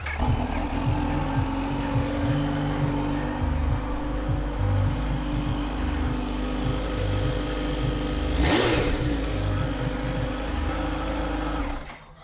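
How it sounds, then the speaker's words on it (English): A Kawasaki Z H2 motorcycle engine idles steadily during an oil and filter change, a close, continuous mechanical hum with rhythmic pulsing, briefly interrupted by a short whoosh before cutting off near the end. "We're going to turn the bike on one more time"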